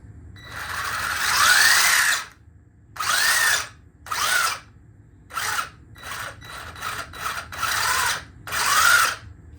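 The electric motor of a WLtoys 12428 RC car whines under throttle in repeated close bursts, some long and some short, rising and falling in pitch with silent gaps between.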